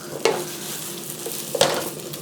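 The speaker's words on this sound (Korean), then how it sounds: "자, 우리가 준비했던 가지를 볶아줍니다." Starch-coated eggplant fries in a thin layer of oil, a soft steady sizzle punctuated by two sharp scraping stirs about a second apart, close by with no talking.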